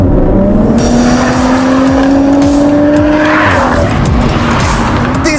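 A BMW straight-six engine revs up loudly and steadily to 7,000 RPM, its pitch climbing before the revs drop off.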